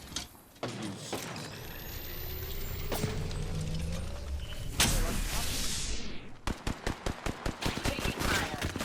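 Gunfire rattles in the Apex Legends video game, with single shots and sliding mechanical clicks giving way to a rapid, evenly spaced burst of automatic fire near the end.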